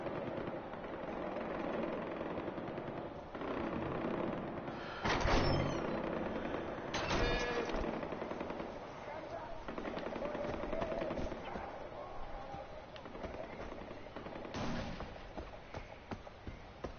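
Machine gun fire in the video game Far Cry 4, bursts of rapid shots at around five and seven seconds and again near fifteen, over a steady background rumble of game ambience, with a voice speaking at times.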